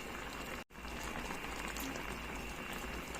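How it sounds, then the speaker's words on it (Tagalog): Pinangat sapsap fish stew with plenty of tomatoes bubbling in a pot, a steady close simmer with a brief dropout near the start and no talk. "Kuluin natin na mabuti para maluto talaga siya ng gusto"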